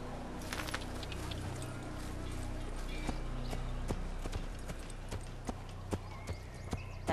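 A black horse gallops in Assassin's Creed, sounding as a steady stream of rhythmic hoofbeat clops with a faint, muffled voice underneath at times.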